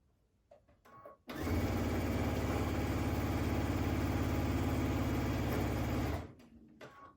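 Close up, a sewing machine stitches quilt fabric in one continuous, loud, even run of rapid needle strokes lasting about five seconds, with faint handling noises before and after.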